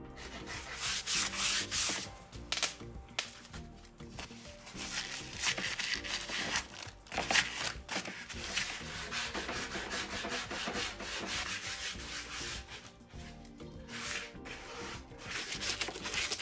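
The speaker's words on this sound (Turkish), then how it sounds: "önce köşelerde zımpara işlemi yapacağım" Sandpaper scrubs against the corners of painted wooden furniture in repeated back-and-forth strokes, close and continuous with brief pauses between bursts.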